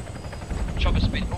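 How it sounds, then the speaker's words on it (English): Military helicopter in Arma 3 with a loud rotor thrum and a spinning, wavering whine, heard close under radio-style talk. "Chopper spin. Oh, chopper spinning."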